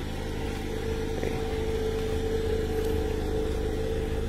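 A pearl white 2018 Mazda Miata MX-5 RF on 18-inch wheels sits idling, its engine a steady, quiet hum that holds evenly throughout with no other sounds.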